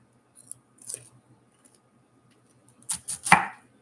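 A kitchen knife chops vegetables for veggie summer rolls on a board: a couple of light taps early on, then three crisp, close cuts in quick succession near the end, with no talk.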